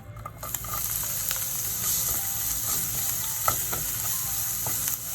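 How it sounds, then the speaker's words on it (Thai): Onion stir-fried in hot oil for Japanese-style egg fried rice gives a loud, continuous sizzle, layered with scraping and light tapping from a utensil moving the pieces around the pan. "เอาหอมหัวใหญ่ลงไปผัดนะคะ"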